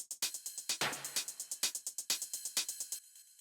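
Techno percussion loop under subtle bus compression: a tight, rapid groove of kicks, hats and snappy hits, with a brief noisy swell early on, steady and upfront until it drops out near the end.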